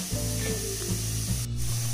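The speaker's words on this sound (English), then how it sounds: "the squid has left out some water of its own and" Squid sizzling and bubbling in its own released water in a pan for a spicy Indian-style calamari fry, a steady close hiss with soft popping and no voices.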